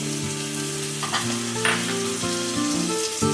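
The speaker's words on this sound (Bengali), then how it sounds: "এরপরে দেব পোস্ত বাটা, আর দেব চেরা কাঁচা লঙ্কা, আর দেব ভেজে রাখা চিংড়ি মাছগুলো।" Poppy seed paste, slit green chillies and fried prawns cooking in a pan for a pointed gourd and prawn posto: a steady close sizzle with a few soft stirring scrapes, no voices.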